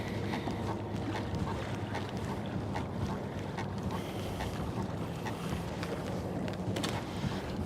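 Steady wind rushing past a bass fishing boat heading straight into it, a constant low roar with buffeting against the microphone and faint water noise, no talking.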